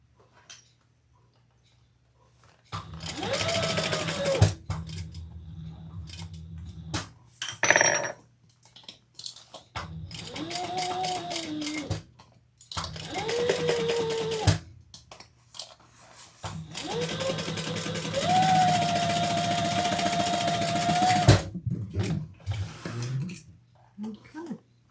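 A domestic sewing machine stitches a leather and vinyl crossbody bag in several bursts of steady whirring, stopping and restarting between seams, with brief pauses and a few small clicks in between.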